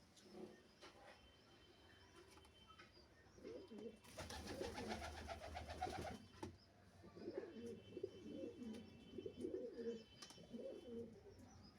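Pigeons kept for sale at a bird market coo softly in low, throaty repeated phrases, with a louder burst of wing flapping or rustling in the middle, against quiet background chirps.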